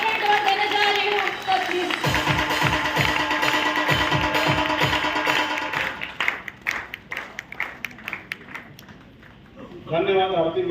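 An audience welcomes a speaker with applause at an event, a dense wash of clapping from many hands. It thins toward the end into scattered claps and a few voices.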